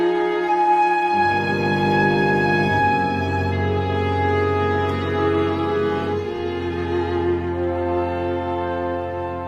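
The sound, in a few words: opening bars of Schoenberg's Chamber Symphony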